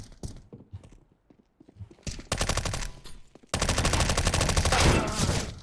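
Rapid automatic gunfire in Counter-Strike: Global Offensive, a few scattered shots followed by two long sustained bursts of rattling fire, loud and close, with a voice briefly speaking near the start.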